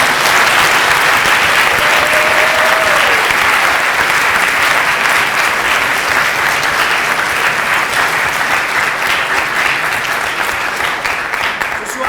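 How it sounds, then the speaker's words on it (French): A large crowd at a debating competition final claps loudly and steadily for several seconds, dense applause filling the room without pause. "je vous demande un tonnerre d'applaudissements pour ces deux formidables équipes"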